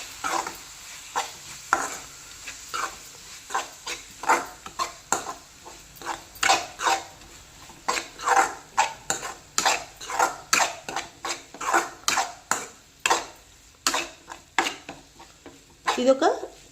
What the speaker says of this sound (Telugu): ఇవన్నీ వేసుకొని బాగా మిక్స్ చేసుకుందాం